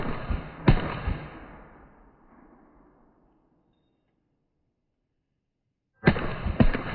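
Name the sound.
M4 rifle shots fired at a target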